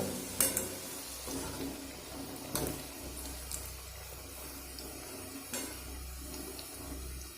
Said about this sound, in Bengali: এইভাবে নেড়ে নেড়েই কিন্তু হাই ফ্লেমে ভেজে নিতে হবে